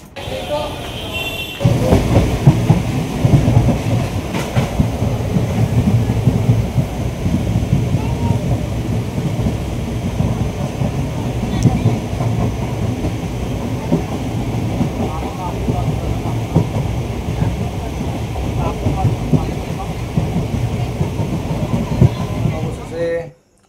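Passenger train on the Sealdah–Lalgola line rolling steadily, a dense continuous low rumble of wheels and carriage noise filling the whole stretch after a brief quieter start, with voices faintly mixed in.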